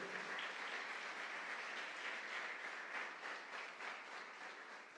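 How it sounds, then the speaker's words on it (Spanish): A church congregation applauds during an anniversary closing service, a dense, steady wash of many hands clapping that holds strong for the full stretch and eases slightly toward the end, with no voices over it. "Dale ese aplauso al Dios del cielo"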